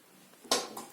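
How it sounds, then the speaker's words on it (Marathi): A metal kadai is set down on a kitchen stove with a sharp clank, followed by a softer second knock, close and quiet in an otherwise still room. "आता आपण कढई ठेवूया"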